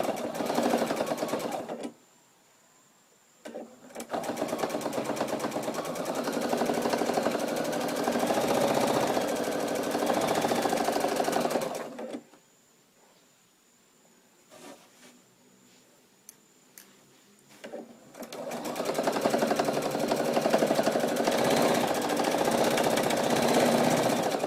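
A sewing machine on a tabletop topstitches down the middle of a dish towel in loud, close bursts of rapid mechanical chatter, stopping twice for a few seconds before starting again.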